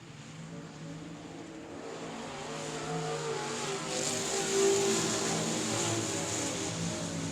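Race cars accelerating at a green flag start at South Texas Speedway, a swelling, sustained engine drone from several cars that builds louder toward the middle and holds.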